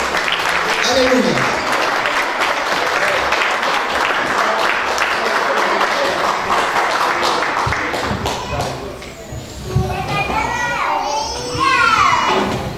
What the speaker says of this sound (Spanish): Y le vamos a dar fuerte aplausos al Señor, hermanos